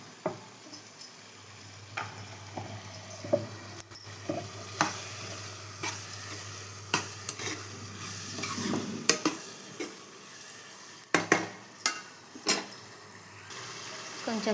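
Tomatoes for a ridge gourd curry sizzle in a pan while a spoon stirs and scrapes them in repeated uneven knocks and scratches, close and fairly soft, with a low hum under the first half.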